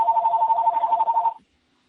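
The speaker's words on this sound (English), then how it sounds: "I definitely have another line, and it's ringing" A telephone line rings in the background, one steady warbling ring burst lasting over a second before it cuts off into silence. Nobody speaks over it.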